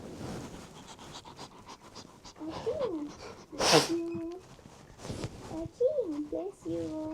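A single sharp sneeze bursts out midway through a lively family gathering, with children and adults chattering and singsong voices around it.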